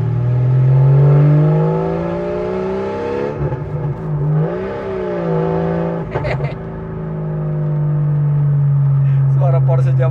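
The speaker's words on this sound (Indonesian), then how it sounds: "Suara Porsche zaman dulu." An RWB Porsche by Akira Nakai drives with a steady, droning engine note that dips and rises during manoeuvring, heard from inside with brief clicks near the end.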